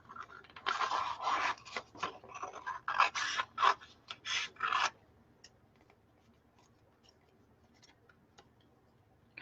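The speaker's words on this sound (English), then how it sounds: "Kind of miss my gold scissors because I'm like cutting crooked with these" Scissors snip through paper for gift tags in a quick, uneven series of close, crisp cuts lasting a few seconds, then faint handling noise in a quiet room.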